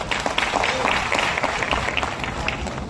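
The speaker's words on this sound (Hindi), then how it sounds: "जोरदार तालियां होनी चाहिए प्लीज" A crowd claps at a grand celebration event for marketing leaders. The applause is brisk and uneven and keeps up for the few seconds shown.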